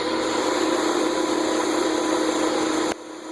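Steady whirring hum of a buffing wheel spinning on a lathe against a wooden bowl finished with Danish oil, loud and continuous, dropping abruptly to a quieter drone near the end.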